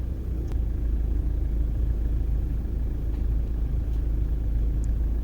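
Steady low rumble of a car on the move, heard from inside the cabin, with a constant engine and road drone and a few faint ticks, no voices.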